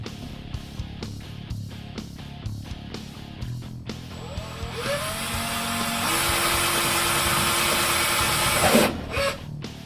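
A power drill boring holes through a mounting plate for a marine battery charger, a rising whir building and sustaining loudly after quieter handling clatter and knocks, ending with a brief louder burst.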